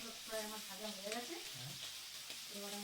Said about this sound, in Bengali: তো মাছ ভাজার জন্য আমি তেল দিয়ে দিয়েছি, যে মাছগুলো দিয়ে দিলাম। একটু ভেজে নেব মাছটা আমি